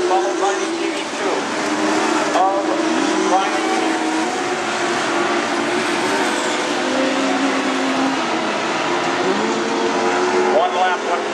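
Modified Lites race cars circle Whip City Speedway in a feature race, a constant loud roar of engines rising and falling as cars pass, with a track announcer talking over it.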